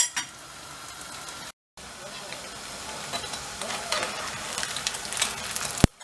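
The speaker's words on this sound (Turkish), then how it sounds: "çıtır olmasını istiyorsanız çok kızartın" Slices of bread dipped in egg fry in hot oil, giving a steady close sizzle and hiss that briefly drops out, then returns with louder crackling spatters and a sharp clatter near the end.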